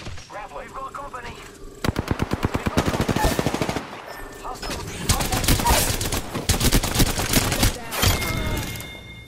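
Rapid automatic gunfire bursts from the Apex Legends battle royale shooter, loud and dense, with overlapping volleys and sustained fusillades in close combat, separated by a brief lull.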